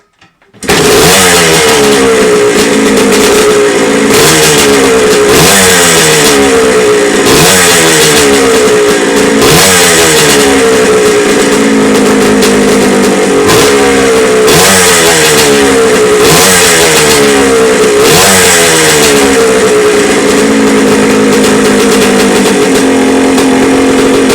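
A 1978 Suzuki RM125 dirt bike's two-stroke engine revs hard and repeatedly, loud and close, with rhythmic throttle blips rising and falling over steady idle.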